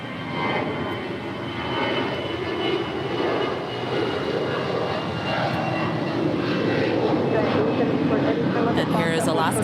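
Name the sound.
airliner jet engines at LAX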